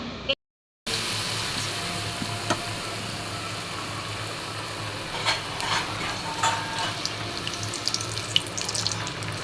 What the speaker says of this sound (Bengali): এবার আমি তেলে ভাজবো।